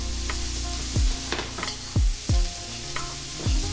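Onion and garlic fry in a pan, a steady loud sizzle broken by several stirring scrapes and thumps of a utensil against the pan, close up with no talk.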